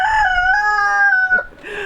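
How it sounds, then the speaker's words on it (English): A rooster crows in a long, drawn-out call, followed by a short cluck-like note from nearby chickens, close and fairly loud. "let's go check on the chickens"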